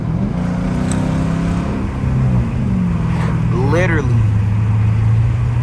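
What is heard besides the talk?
straight piped Dodge Charger R/T doing a burnout, engine revving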